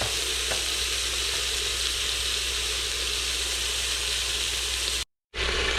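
Batches of meat for birria tacos brown in an Instant Pot with a steady, close, even sizzle and hiss. The sizzle cuts out briefly near the end, then resumes.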